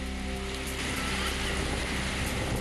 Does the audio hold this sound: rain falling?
yes